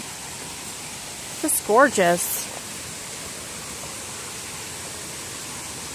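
Steady broadband rush of Harpers Creek flowing along the Appalachian Trail fills the whole clip, with a person speaking briefly over it.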